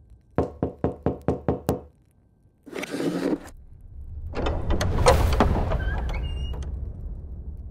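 Loud, rapid knocking on a door at night, a run of seven evenly spaced raps followed by scraping and rustling movement and a swell of dramatic background sound.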